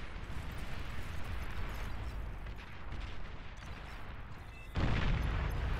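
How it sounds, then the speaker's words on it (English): An atomic bomb explosion in the real-time strategy game Beyond All Reason: sustained rumbling roar of a battle, then a sudden, louder deep blast near the end, with no one talking. "Ah, atomic bomb! I see."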